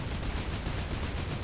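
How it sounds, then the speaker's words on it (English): A dense, rumbling explosion blast from a boss fight in the video game Shantae: Pirate's Curse, a continuous loud low roar with crackling bursts filling the whole moment, no voices. "This reminds me of the Mega Man X explosion so much"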